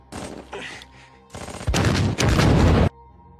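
Gunfire and grenade blasts in a World War II war film, with bursts of shots at the start, then two loud sustained roaring bursts of firing and explosions before a sudden quiet.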